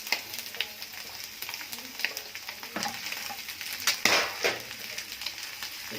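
Chopped onion, bell pepper and garlic sizzle in a hot oiled pan, a dense crackling fry with occasional scrapes and clatter as the pieces are stirred.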